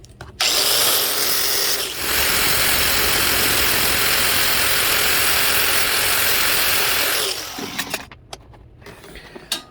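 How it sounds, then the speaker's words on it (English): A cutoff wheel grinds through a heavy-duty flex cable for an RC hydroplane, a loud, steady, close whine that runs for about seven seconds, briefly dips, then winds down into scattered clatter. "so I'm just gonna use my cutoff wheel"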